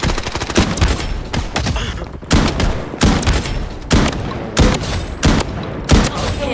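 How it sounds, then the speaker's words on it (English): Rapid bursts of gunfire in the video game Blood Strike, sharp repeated cracks in quick clusters with short gaps between volleys, loud and close. "Taking fire!"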